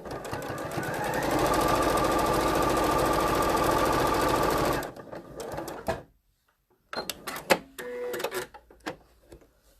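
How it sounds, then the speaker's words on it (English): A sewing machine stitches a quarter-inch French seam in a steady, fast mechanical run for about five seconds, then falls quiet, followed by a few short bursts of stitching and handling noises. "And now I'm doing a 1/4 inch seam."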